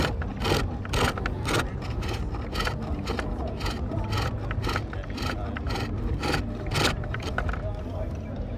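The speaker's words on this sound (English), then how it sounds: "just going to clean up that last bit of wood with a finishing tool" A finishing tool scrapes the last bit of wood from the bottom of a wooden bowl on a lathe, giving a steady rough rubbing with rhythmic scraping pulses, close and continuous at a craft village event.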